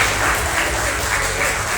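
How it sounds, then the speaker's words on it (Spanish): Audience applause fills the hall at a school award ceremony for an intercollegiate read-book contest in Pasaje, El Oro, Ecuador: dense, steady clapping from many hands throughout, with no talk over it. "Los aplausos del área de lengua y literatura."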